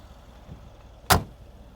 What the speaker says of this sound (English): all the windows go up